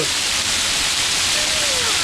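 Hidden waterfall at Zirad near Alibaug, a steady broadband rush of falling water filling the scene without break, close and fairly loud.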